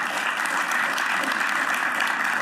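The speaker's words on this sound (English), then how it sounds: "I think that needs another big round of applause" Audience applause at a live interview event, a steady, dense clapping that holds evenly for a couple of seconds with no voices on top.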